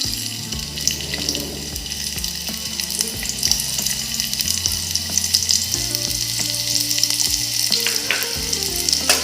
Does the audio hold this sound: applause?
no